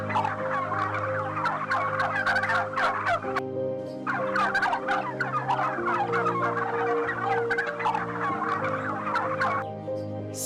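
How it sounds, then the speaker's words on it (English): A turkey gobbles repeatedly in rapid rattling bursts, loud and close, with a brief pause between calls and no voices over it. "It's a turkey bird."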